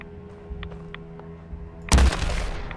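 A solar cannon rifle fires in a video game, one sudden loud blast that bursts in after quiet game ambience with faint clicks and tones, then trails off into a rumbling decay.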